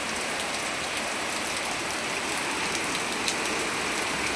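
A heavy downpour during a thunderstorm drums loudly and without a break on nearby surfaces, a thick, even hiss of countless raindrops with no one speaking.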